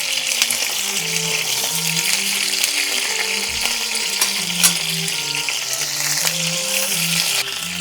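Chicken pieces fry lightly in oil with a steady, dense sizzle and crackle throughout, a low bubbling undertone, and a few brief scrapes or clinks.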